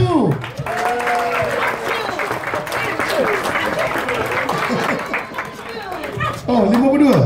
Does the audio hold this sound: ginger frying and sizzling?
no